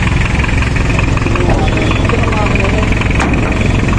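Diesel engine of a Mazda B2200 pickup idling, a loud, close, steady clattering rumble with constant vibration throughout, no voices over it.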